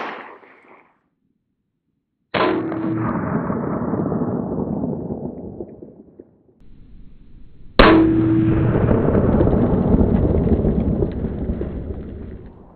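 Two 9mm pistol rounds crack against a steel armor plate, each a sharp loud report with a ringing metallic decay lasting several seconds, spaced about five seconds apart outdoors.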